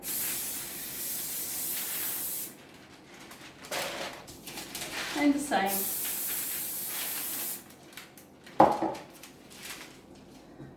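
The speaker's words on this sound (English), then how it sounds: "spray this lightly with some olive oil spray" Hissing bursts from an olive oil aerosol cooking spray, loud and near, broken by quiet gaps, with a few muffled words spoken partway through.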